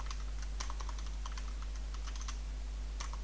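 Fingers type on a computer keyboard in quick, irregular bursts of soft clicks, close but quiet over a steady low electrical hum, with no voices.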